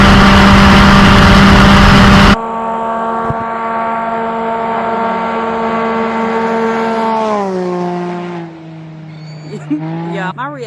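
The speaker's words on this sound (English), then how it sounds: "That exhaust, you can hear it from miles away" A Can-Am Ryker 900 three-wheeler's exhaust drones loud and steady at high speed on the road, its harmonic note holding level and then dropping as the machine slows, after a brief burst of wind noise at the start.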